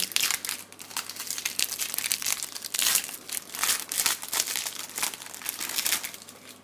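A T-Mobile Ekstraklasa 2013 sticker sachet is torn open by hand, giving loud, close crinkling and crumpling of the wrapper in repeated bursts.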